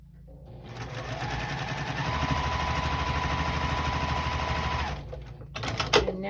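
A sewing machine joins five-inch quilt block squares in one sustained, rapid-rattling run of about five seconds, close and steady, ending with a few clatters of handling.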